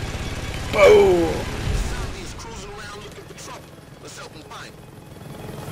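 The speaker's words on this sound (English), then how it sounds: "We have a helicopter, that's not fair." A helicopter's rotor in Saints Row 2 chops under a sudden loud blast, with explosions and excited talk over the steady whirring.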